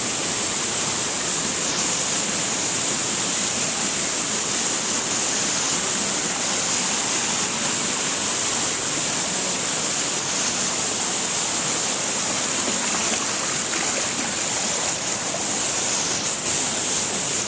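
Strong flood water at Pradhan Pat in Deogarh district, Odisha, rushes down the hillside like a mini waterfall, a loud, unbroken roar that stays constant throughout with no voices.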